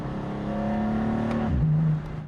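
Audi RS3 five-cylinder engine with a 1-2-4-5-3 firing order revving, a steady humming tone that holds, then drops and settles into a lower note, moderately loud with no voices.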